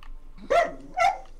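A pet dog barks twice in quick succession, close to a gaming headset microphone during online Back 4 Blood voice chat; two loud, sharp barks about half a second apart over low background hum.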